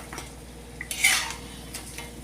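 Maida kara papdi are flipped in frying oil, with a soft sizzle underneath a sharp metal utensil clatter and scrape, one burst standing out near the middle, close and alone.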